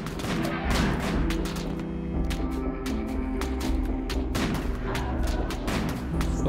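Turret gunfire in the video game RimWorld: a rapid, loud stream of sharp shots and booms, some overlapping, that keeps going without a break.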